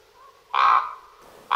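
A common raven gives two loud, harsh croaking caws in close succession, the first after a faint lead-in and the second cut off at the end, with little else around.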